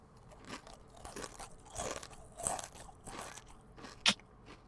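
Someone chews food close to the microphone, with a run of soft, irregular crunches and one sharper crack near the end, quiet and without talk.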